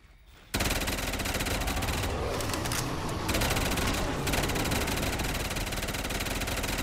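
Rapid continuous gunfire from a weapon in a zombies video game, a dense, loud, unbroken automatic burst that starts abruptly and runs steadily to the end.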